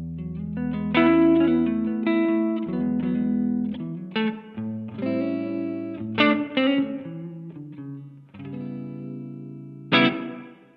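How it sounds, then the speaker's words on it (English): Clean electric guitar through Sunbear Firebird pickups into a Silk Tone amp, playing mellow ringing chords and single notes in loose phrases with lingering sustain, alone and fairly loud. "Carl Longbottom Volvia with Sunbear Firebird pickups into the Silk Tone amp, and my clean tone sounds like this."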